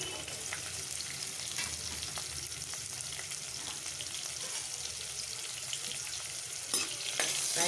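Garlic, onion and a dry chilli broken in two fry in a pan for a spicy mutton chilli fry, a dense, even sizzle running throughout with faint stirring clicks and a brief louder scrape near the end.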